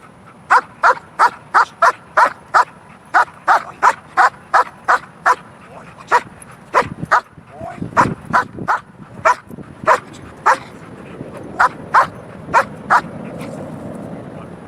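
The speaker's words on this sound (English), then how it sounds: "he barks like crazy at this ball" A dog barks sharply and repeatedly in a fast, steady rhythm, close and loud, with a brief scuffle of whines and movement in the middle.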